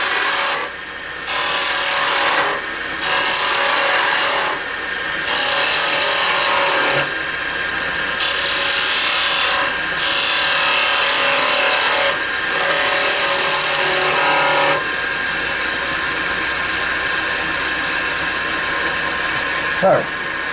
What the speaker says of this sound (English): with the long point of the skew chisel, with a bit more clearance, and cut down to about ½ inch